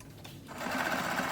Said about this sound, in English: the sewing machine just didn't feed it all the way through by itself